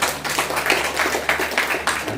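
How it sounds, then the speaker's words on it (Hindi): An audience at a Security Service Wing experience-sharing session claps loudly, a dense burst of applause with rhythmic surges lasting about two seconds. "अपने लिए जोरदार ताली बजाएंगे"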